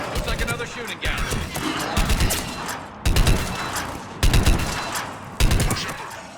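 Repeated bursts of rapid automatic gunfire in the Mass Effect 3 video game, loud and close, separated by short pauses, mixed with impacts and voices talking over the shooting.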